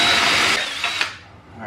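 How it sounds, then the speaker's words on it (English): A masonry bit drills into concrete with a harsh, grinding power-drill whine for about a second before the noise tapers off and fades out. "Now I was using a masonry concrete bit to do that."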